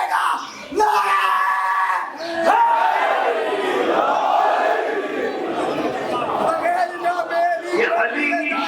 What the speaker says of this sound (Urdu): دونوں ہاتھ بلند کر کے پورے زور سے نعرے کا جواب دے گا